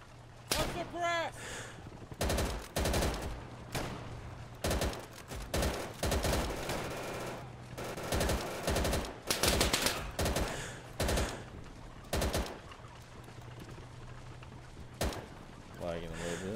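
Submachine guns in Easy Red 2's Battle of Anzio campaign fire repeatedly in sharp, loud bursts of rapid shots, separated by brief pauses, over low battlefield rumble.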